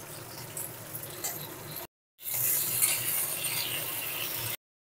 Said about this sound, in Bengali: শিমগুলো দিয়েও আরও একটু ভালো করে ভেজে নেব।